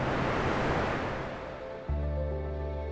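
Waves of the Arabian Sea at Mulki wash in close by as a loud, rushing surf with no talk. A low, steady hum joins the roar near the end.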